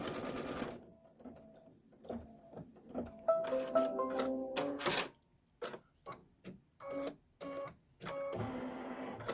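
An embroidery machine stitches quilting on a Kimberbell Main Street Celebration General Store design, giving bursts of fast, rhythmic mechanical chattering that stop and start with brief pauses.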